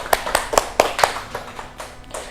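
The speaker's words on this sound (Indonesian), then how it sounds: "tepuk tangan untuk kita semua" A small group claps in a classroom lesson, about nine separate sharp claps in a loose, slightly uneven rhythm, fairly close and moderate in loudness, with no talk over them.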